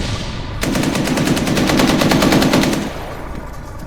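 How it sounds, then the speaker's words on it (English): A sustained burst of rapid automatic machine gun fire in a military video game set in Colombia, loud and close, lasting about two seconds before cutting off into ambient background. "Moving towards the gunfire."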